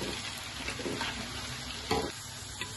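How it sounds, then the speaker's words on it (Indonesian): Onions (bawang) frying in a pan: a steady close sizzle with occasional stirring scrapes and small crackles, no talking. "Kita tunggu dulu bawangnya sampai kuning, kecoklatan dan berbau harum."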